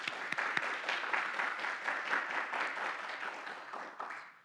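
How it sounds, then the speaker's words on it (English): A crowd applauds graduates at a 2023 summer graduation recognition ceremony, with steady, dense clapping for about four seconds that tapers off at the end. "Let's give them a round of applause."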